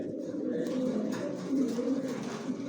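Pigeons coo steadily and softly throughout a loft housing birds of various prices, a continuous low layered murmur of several birds with no talk.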